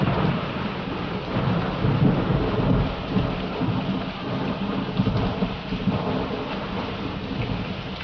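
Steady rain and rolling thunder accompany a modern ballet dance number titled "Rain" on a TV dance show, with dense continuous downpour and low rumbles swelling throughout, loud and with no voices.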